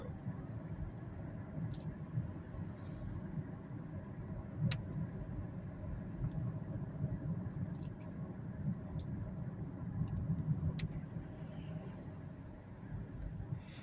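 A 2008 Saturn Vue XE with about 145,000 miles on it, cruising at roughly 30 mph: a steady low engine and road drone that holds even throughout, with faint ticks on top.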